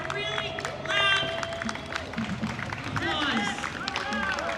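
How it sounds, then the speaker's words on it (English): A street crowd at New York's Syttende Mai Norwegian Day Parade claps and murmurs. The outdoor applause is faint and scattered, mixed with babble and voices talking nearby. "So give them a really loud"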